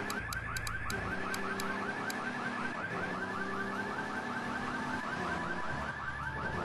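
A car alarm in Grand Theft Auto 3 wails in a fast, repeating warbling cycle, loud and continuous, with faint music and other game sounds underneath and no talking.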